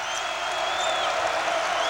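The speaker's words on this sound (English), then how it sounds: "we see here this crowd here at UD Arena come alive" Crowd noise fills a basketball arena during a Dayton men's home game against Miami Ohio, a steady, dense roar of cheering and applause that holds without a break.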